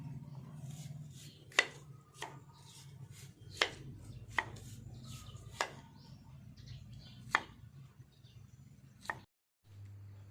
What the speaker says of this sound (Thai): กำลังฝานหัวเนาะค่ะหัวมัน